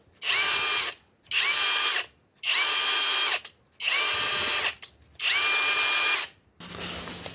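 A Procraft PWA36 cordless impact wrench runs in five loud, close whirring bursts of about a second each, separated by short pauses, with a quieter, faltering sixth attempt at the end.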